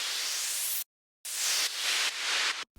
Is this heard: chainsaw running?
no